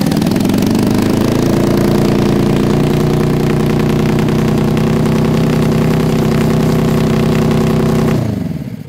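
Suzuki GS450 motorcycle engine fitted to a lawn mower build runs steadily at a loud, even idle with a constant low drone for about eight seconds, then cuts off abruptly near the end.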